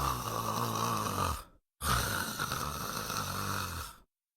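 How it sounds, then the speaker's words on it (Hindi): A wealthy man snores in deep sleep in a room, two long loud snoring breaths close by with a brief silent gap between them, no talking. "धनी सेठ उसी कमरे में खर्राटे भरकर सो रहा था"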